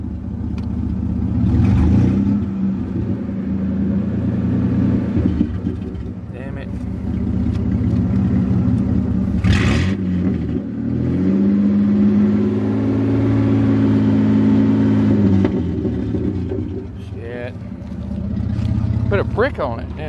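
A 9.0L engine revs under a stick wedged on the gas pedal, rising and falling in loud surges over a steady rumble while people talk nearby.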